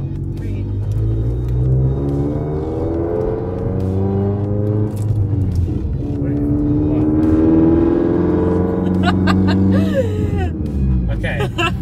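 A Mitsubishi Lancer Evolution X drives with a steady, loud engine rumble that swells slightly partway through, while people talk over it throughout.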